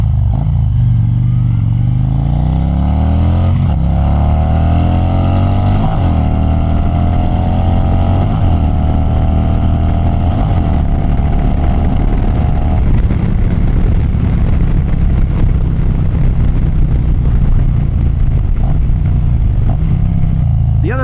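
A Harley-Davidson bagger motorcycle on Michelin Commander III tires accelerates hard, its loud V-twin exhaust climbing in pitch through the gears and then settling into a steady roaring drone with wind noise.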